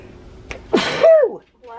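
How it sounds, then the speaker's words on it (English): A single close sneeze muffled into a shirt bursts out sharply, followed by a brief breathy exhale and a faint voiced sound. "And yes, I am sneezing into a shirt, not all over stuff."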